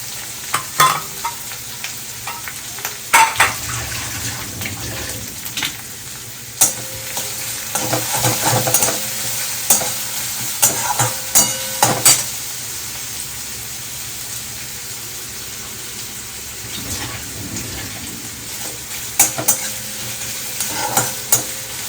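Panch phoron spices, dry chilli, bay leaf and ginger fry in hot oil for khichuri, a loud, continuous sizzle broken by sharp spoon scrapes and stirring clatters, with no talk.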